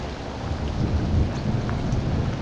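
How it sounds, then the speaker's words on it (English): Heavy rain pours down during a thunderstorm in the Florida Keys, with a low thunder rumble rolling steadily beneath the dense, constant hiss of the downpour. "Oh, got some thunder rumbling."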